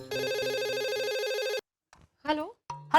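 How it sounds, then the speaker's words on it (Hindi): A telephone ringtone rings steadily for about a second and a half during a call in a Hindi sitcom household scene, then stops, followed by brief faint clicks and a short spoken voice. "चाचा जी मैं माधवी भाभी को फोन करती हूँ।"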